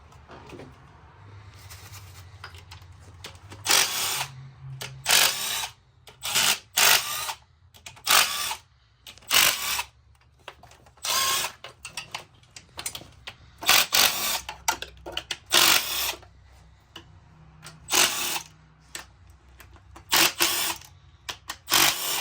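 Ratcheting and power-driver bursts loosening valve cover bolts on a BMW 335d diesel engine, a series of sharp, close, repeated whirring spurts separated by short pauses, with no talking.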